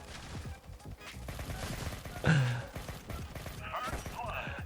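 Gunfire in the mobile first-person shooter The Origin Mission (Alpha Ace) on a small map, crackling in bursts with one louder shot near the middle, under steady talk.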